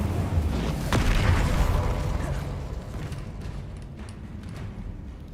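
An Incendio fire spell is cast in Hogwarts Legacy, with a deep booming burst near the start that rumbles on and slowly fades under a lingering roar.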